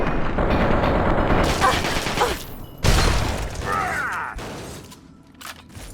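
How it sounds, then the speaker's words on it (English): Gunfire in Fallout 3, broad bursts of shots with a sharp loud blast near the middle, dense and close, mixed with game noise and some muffled talk. "Shoot this guy in the head."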